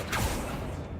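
Accio summoning spell cast in Hogwarts Legacy, a brief magical whoosh with a creaking mechanical edge, followed by a steady low hum, moderately loud and close, with no talking.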